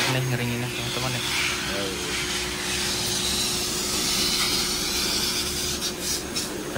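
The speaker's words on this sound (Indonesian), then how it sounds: "Oke, kita pakai hair dryer nih ngeringinnya" A hair dryer blows on a freshly bathed cat inside its cage, making a steady, loud whooshing roar that runs unbroken from start to finish. A voice speaks briefly near the beginning.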